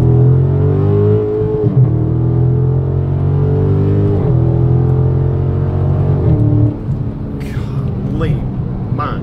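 A 2018 Dodge Charger sedan Scat Pack accelerating from a roll, a deep loud engine drone rising in pitch, then a quick shift into second gear and renewed climb, heard from inside the cabin.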